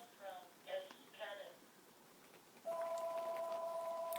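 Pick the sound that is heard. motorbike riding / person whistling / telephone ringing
telephone ringing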